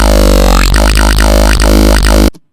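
A loud, buzzing dubstep synth growl made in Sytrus, with a peak filter's resonant peak sweeping up and down in repeated waves, cutting off abruptly near the end.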